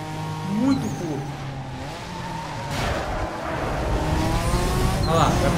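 Classic Ferrari engine racing at high speed in Need for Speed Most Wanted Redux, loud and continuous with rising revs through the gears, tire noise and someone talking over it.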